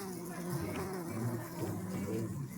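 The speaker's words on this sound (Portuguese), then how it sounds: "Muita abelha." Stingless bees (Melipona scutellaris, uruçu nordestina) buzzing steadily inside an opened hive kept in a city, a dense continuous hum close by with no break.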